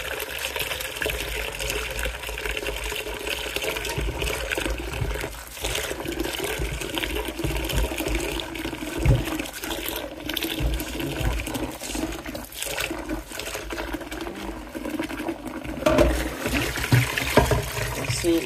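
Running water splashes and trickles steadily while langoustines are washed under a tap, close by, with brief clinks and a few louder gushes near the end.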